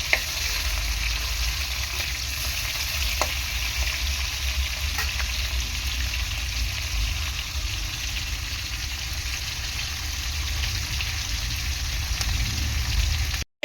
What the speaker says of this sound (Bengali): অল্প অল্প করে ভালো করে মাছগুলো ভেজে নেব।